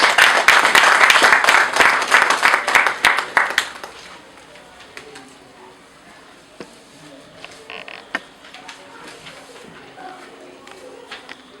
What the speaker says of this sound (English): If we can applaud for him.